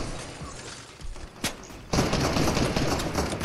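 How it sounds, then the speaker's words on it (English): Video game gunfire in a battle royale match: a few sharp isolated shots, then from midway a dense sustained burst of rapid automatic fire, fairly loud and with no talk over it. "someone's shooting at me with this"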